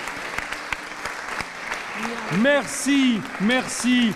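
A studio audience at a televised French opera-themed contest claps steadily, fairly loud and close, while a host's voice carries over the applause.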